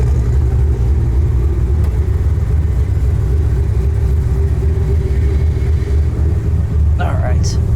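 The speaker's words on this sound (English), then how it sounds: "Today we have a 2007 Shelby GT500 with, 800 wheel horsepower." A 2007 Shelby GT500 built to about 800 wheel horsepower gives off a loud, constant low engine rumble from inside the car while it drives.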